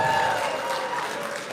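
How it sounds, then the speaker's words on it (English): Comedy show audience clapping together, a dense steady patter of hands that holds throughout at moderate loudness. "Clap if you're a DSA delegate."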